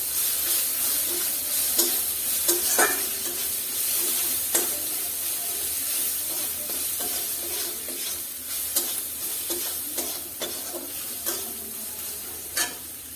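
Pointed gourd stir-fried with ginger paste and salt in a pan, a steady close sizzle broken by scraping stirs and spatula clicks at irregular intervals, with no voices.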